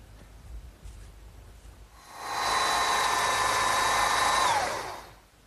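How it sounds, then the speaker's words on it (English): Power drill boring a 7/8-inch-deep hole into wood for a garden swing, the bit marked with tape as a depth stop: a steady whining motor that spins up, holds for about two and a half seconds, then winds down, close and loud. "I want to drill those next"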